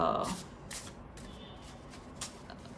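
A deck of cards is shuffled carefully by hand, giving soft riffling bursts near and at moderate level, with brief crisp flutters spread across a few seconds.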